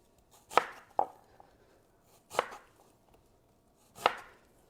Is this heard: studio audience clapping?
no